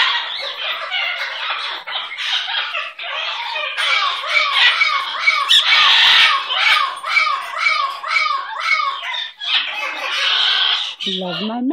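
A pet bird squawks in a dense run of harsh, chirping calls that keep going for about twelve seconds, loud and close, with a brief lower call at the very end.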